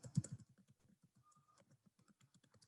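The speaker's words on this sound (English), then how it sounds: "So I've typed in the Windows username and password" Rapid, close keystrokes on a computer keyboard as a Windows username and password are typed in, a heavier cluster of clicks at the start and then a quick irregular patter of lighter taps, with no one talking.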